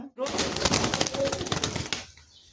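Pigeons at a bustling pigeon market, with wing flaps and scuffling close by, mixed with busy crowd chatter and voices that continue for about two seconds before fading out.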